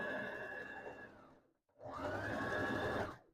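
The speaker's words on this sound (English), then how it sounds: "put your leg on the presser, on the pedal, and start to sew away" A Brother LS14S sewing machine stitches in two steady, fast-running bursts with a short pause between them, close and fairly quiet.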